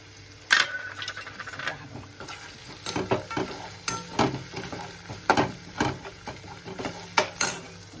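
Spices of red chilli powder, goda masala and coriander powder sizzle in a pan for brinjal curry while a spoon stirs and clanks against the metal in irregular close taps over a steady frying hiss, no voices.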